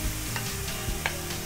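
Grated raw papaya frying in ghee in a kadai, a dense continuous sizzle with faint crackles and small scrapes, close and fairly loud, with no talking.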